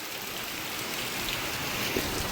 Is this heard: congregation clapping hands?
no